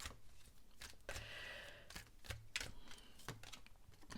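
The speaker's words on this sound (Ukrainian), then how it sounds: "Перед вами тасую карти." Tarot cards being shuffled by hand, a run of quick crisp riffles and flicks with short papery bursts, close and fairly faint, with no one talking over them.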